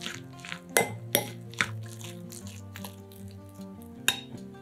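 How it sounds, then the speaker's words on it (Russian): Egg filling being stirred with mayonnaise in a dish, a spoon scraping and clinking against it in irregular strokes with a few sharper knocks, close and clear with no talk. "Начинку заправляем майонезом и перемешиваем"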